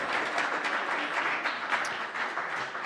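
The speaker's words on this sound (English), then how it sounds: "Round of applause for Hope" Steady applause from a crowd at a student guild election results night, dense even clapping at moderate distance with no voices.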